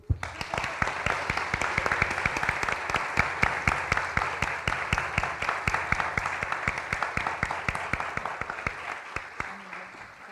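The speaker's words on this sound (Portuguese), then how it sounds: "Quem gostou, aplaude." Warm audience applause closing a talk at a civil law conference in Brazil, dense continuous clapping from a sizeable crowd lasting about ten seconds before fading out at the end.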